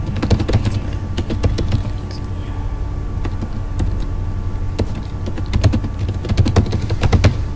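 Someone types on a computer keyboard while building an HTML form, making loud, close key clicks in quick irregular bursts with short pauses, and no one speaks.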